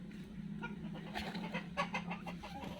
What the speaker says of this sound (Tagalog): Dami palang barako ng pabo natin.